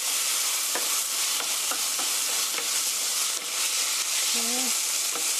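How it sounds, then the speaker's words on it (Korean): Tortilla filling with ketchup and brown sugar stir-fries in a pan, giving a steady, close sizzle broken by occasional light taps and scrapes of a utensil. "케찹의 신맛이 날아가게 이렇게 볶아주세요."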